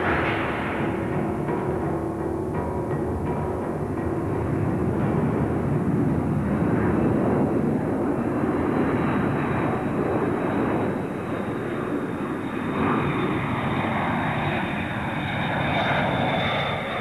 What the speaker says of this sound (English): It is the supreme embodiment of air power. The strategic bomber.